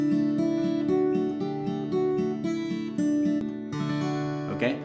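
Acoustic guitar plays the closing phrase of an intro riff, a steady stream of picked notes over ringing strings that ends in a final strum, close and clear with no talking.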